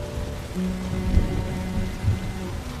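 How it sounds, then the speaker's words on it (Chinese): Steady rain falls with a soft, continuous patter, accompanied by low rumbles and a sustained tonal hum underneath. "下雨了"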